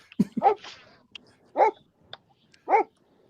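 Dog barks three times at a kayak fishing spot, short sharp woofs spaced about a second apart, moderately close, with small knocks and clicks between them.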